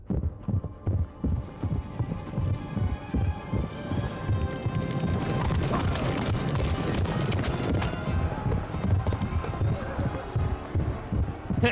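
Horse hooves gallop in the medieval video game Kingdom Come: Deliverance, a fast rhythmic drumming of thuds under a steady droning hum, with voices at times over the top.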